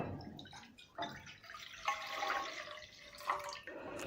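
Liquid splashes and trickles in short bursts as ginger garlic water is poured into a pan for beef karahi, with faint clinks between pours.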